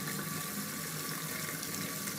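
Tap water runs steadily into a sink while a face is rinsed, a continuous close splashing hiss with no talk.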